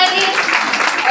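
A congregation at a ladies' church fellowship gathering breaks into loud, dense applause, a brief close burst of many hands clapping at once.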